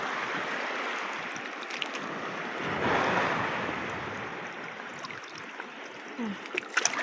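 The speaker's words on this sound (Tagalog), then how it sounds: "Lakas ng kasing alon." Strong sea waves surge and wash in a broad continuous roar, swelling to a louder crash near the middle, with wind buffeting the microphone and a few faint knocks near the end.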